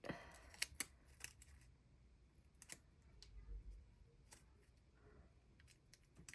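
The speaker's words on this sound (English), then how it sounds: "it is easier to cut with scissors than use the gyro cut" Scissors cut paper for a creative journal spread: a handful of crisp, close snips, several clustered early and others scattered through, over near silence.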